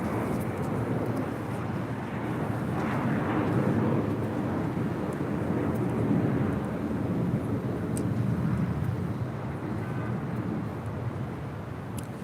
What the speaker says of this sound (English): That is American Airlines Flight 990 departing to Atlanta on an A321.